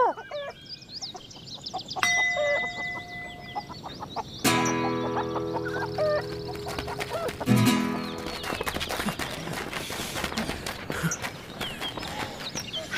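Chickens cluck and squawk repeatedly in a film scene, the loud, busy calls mixed with musical stings and background noise.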